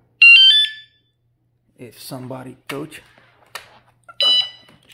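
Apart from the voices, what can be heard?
electric scooter anti-theft alarm, Maike KK10S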